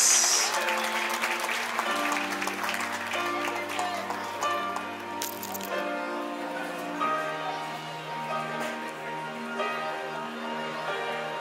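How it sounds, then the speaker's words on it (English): Guests at a quinceañera party applaud steadily beneath loud sustained music, the clapping dense but partly masked by the playing band. "Fuerte el aplauso."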